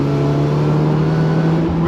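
A supercharged Mk1 Mazda MX5 engine drones steadily at a constant pitch, close and loud, with no talk over it.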